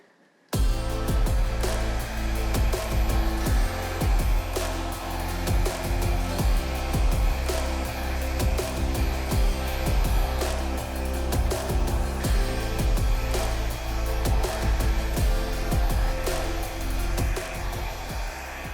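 A blow dryer pushes acrylic pour paint across a large triptych canvas in a continuous close, loud whooshing roar, with rumbling gusts and bumps as the dryer moves over the surface.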